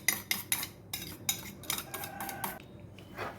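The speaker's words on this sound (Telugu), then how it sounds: "ఒక బౌల్లో 2-3 ఎగ్స్ తీసుకొని అందులో కొంచెం కారం, పసుపు, సాల్ట్ వేసి బాగా మిక్స్ చేయండి" A utensil whisks 2-3 eggs with chili powder, turmeric and salt in a bowl, giving a quiet run of rhythmic clinking strokes against the bowl that taper off toward the end.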